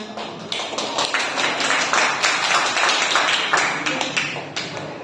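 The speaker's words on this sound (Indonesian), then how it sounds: "Oke, beri tepuk tangan." Applause from a group in a classroom setting, steady overlapping clapping that stays fairly loud throughout the whole stretch with no voices over it.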